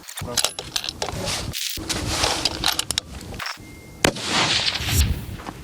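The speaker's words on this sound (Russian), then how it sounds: "Второй выстрел." Sharp sniper rifle shots crack out several times at a sniping competition, loud impulsive bursts each followed by a brief echo, mixed with outdoor noise and voices.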